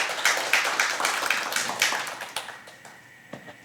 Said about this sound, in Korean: 힘찬 박수로 환영해 주십시오